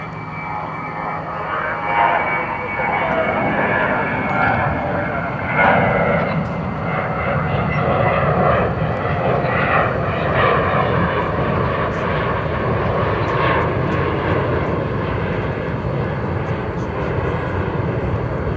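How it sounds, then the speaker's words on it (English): A jet airliner takes off at Dallas/Fort Worth International Airport on a hot summer evening, its broad, steady engine roar sustained and loud throughout with no break. "Got a plane taking off over here."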